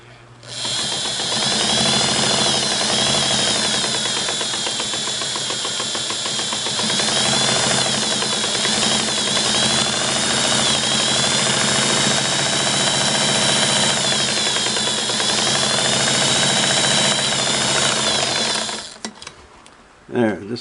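A Singer Model 99K sewing machine runs a test seam, its needle mechanism chattering loud and continuous for nearly twenty seconds, with slight shifts in pace before it stops.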